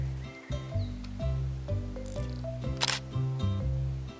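A single crisp camera shutter click rings out near the three-second mark over steady, gentle background music, in a children's cartoon as a rooster is photographed.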